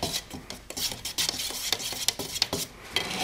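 Scrap kydex stir stick scraping and tapping through resin in a mixing cup, a steady run of short gritty rubs and light clicks, close and fairly quiet with no talking.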